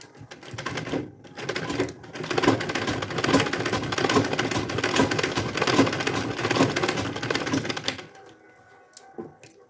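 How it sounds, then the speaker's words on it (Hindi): Sewing machine stitching diagonal lines across a boxy makeup organizer purse, a steady fast mechanical whir with rapid needle rattle running for about eight seconds, then stopping into quiet handling noise. "इसे शेप देने के लिए कुछ इस तरह से इस पर सिलाई कर देंगे"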